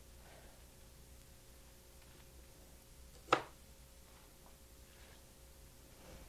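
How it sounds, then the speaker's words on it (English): Single sharp knife cut trimming the base of yellow choi on a cutting board, one brief crisp chop standing alone in a quiet kitchen. "typically I would cut 1/4 inch from the bottom just to trim it like this"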